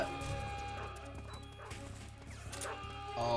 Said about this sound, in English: oh no, not the dogs!